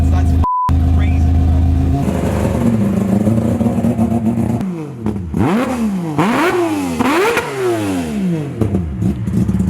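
A naturally aspirated three-rotor 20B engine in a Mazda RX-7 idles with a low drone, then revs hard in three or four sharp, rising and falling pulls, loud and close.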